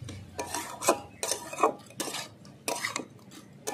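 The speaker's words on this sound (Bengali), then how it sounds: "এবার আমি নামিয়ে দিচ্ছি টমেটো চচ্চড়ি।" A spatula scrapes and knocks against a pan in repeated short strokes, about six bursts in under four seconds, while tomato chorchori with crab is lifted off the stove.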